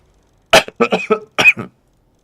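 A short burst of coughs, five or six rough hacks close together, loud and close, after a moment of silence.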